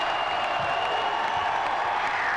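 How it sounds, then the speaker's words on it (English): A high school boys' basketball crowd in a Moline, Illinois gym, 1997, cheering and applauding in a steady, loud, dense roar that fills the whole stretch without letting up. "the Moline crowd's going to get up and make some noise"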